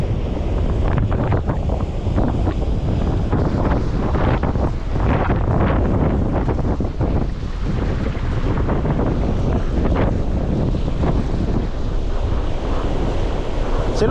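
Strong wind roars across a rocky seashore at a shore-jigging spot, buffeting the microphone in a loud, continuous rush with waves surging underneath, no voices present.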